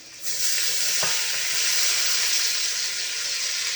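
Steady, loud sizzling and crackling of onions frying in butter in a hot pan, a continuous hiss that starts abruptly and holds throughout.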